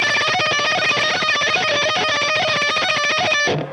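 Electric guitar playing a rapid, evenly picked run of notes at a constant tempo, bright and loud, giving a doubled-note effect, cutting off abruptly near the end.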